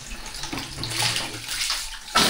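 Water gushing from a hose fed by a plugged-in pump in a rural province home, a steady, close splashing flow that swells and surges near the end.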